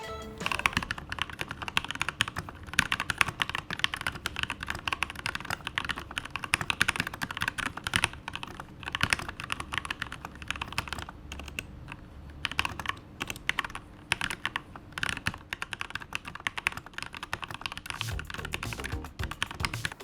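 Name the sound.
typing on keyboard with Gateron linear red switches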